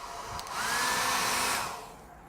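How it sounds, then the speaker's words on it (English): A loud commercial hair dryer blows a steady, hissing rush of air that swells up, holds for about a second, then tapers off. "This is just a random commercial hair dryer."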